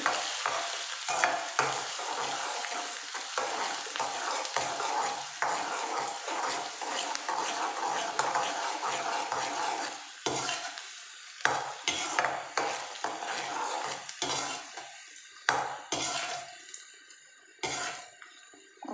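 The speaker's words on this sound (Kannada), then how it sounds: "ಹಾಕಿದ ನಂತರ ಸ್ವಲ್ಪ ಫ್ರೈ ಮಾಡೋಣ" Ingredients for paneer pepper dry frying in a pan give a continuous sizzle broken by repeated stirring scrapes, close and moderately loud, with the frying thinning out into intermittent scraping toward the end and no talking.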